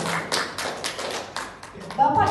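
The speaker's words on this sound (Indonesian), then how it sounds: "tepuk tangan buat Bapak Ibu semua." A small group claps hands for a few seconds, light scattered claps rather than a big ovation, mixed with a voice talking through it.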